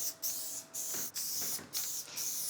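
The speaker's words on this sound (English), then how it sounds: "I'm spraying the bottom and the side pieces because this is gonna set the foundation" An aerosol can spraying adhesive onto door trim pieces, with four close, sharp hissing bursts separated by brief pauses.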